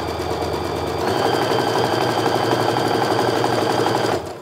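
A sewing machine stitches a quarter-inch seam on quilt pieces, a rapid, steady mechanical whirr running close and loud for about four seconds before stopping abruptly.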